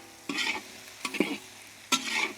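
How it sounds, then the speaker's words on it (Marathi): Mixed vegetables, among them bitter gourd, cucumber and cauliflower, are sautéed and stirred in a pan, with three distinct bursts of scraping and sizzling separated by quieter frying. "भाज्या व्यवस्थित परतून घेऊ"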